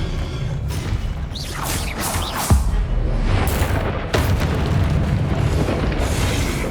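A Confringo explosive spell cast in the video game Hogwarts Legacy: a heavy booming blast with a rushing roar. Sharp cracks punctuate the steady rumble, and there is no talking.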